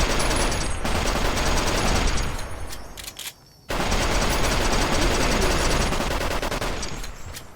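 The Bozar rifle in the Fallout New Vegas video game fires long, rapid, loud bursts of automatic gunfire, stops briefly for a short pause, then resumes sustained shooting.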